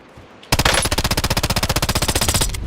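Rapid automatic gunfire from Call of Duty gameplay, a loud continuous burst of evenly spaced shots lasting a couple of seconds, with no talk over it.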